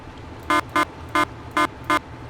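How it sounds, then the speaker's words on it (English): Five short, loud blasts of a Valtra tractor's air horn in Farming Simulator 22, in a quick, slightly uneven rhythm over a steady engine hum. "a little loud, air horn, but it's got an air horn"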